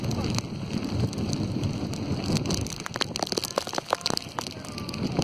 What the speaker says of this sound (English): 35 knots just in the entrance to Southampton alone.